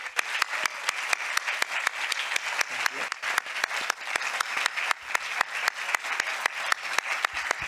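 An audience applauds at the close of a film masterclass with director Radu Jude, clapping steadily and fairly close for several seconds, each sharp clap distinct in a fast, even rhythm, with no talk over it.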